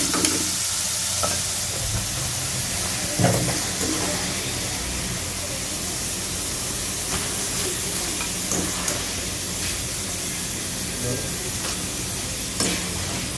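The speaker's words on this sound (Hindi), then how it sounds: "तो ये अभी थोड़ी 1-2 मिनट और पकाएंगे, इसको फ्राई करेंगे जी।" Potato fries frying in hot oil, a dense continuous sizzle and hiss with occasional stirring clinks and scrapes, close up and steady throughout, without speech.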